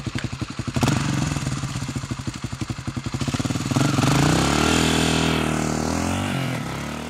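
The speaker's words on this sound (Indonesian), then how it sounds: "akhirnya mereka berdua pun jalan tuh sama si Edi naik motor" A motorcycle engine putters with a rapid, pulsing rhythm, then revs up into a louder, sustained drone as it rides away, close and alone.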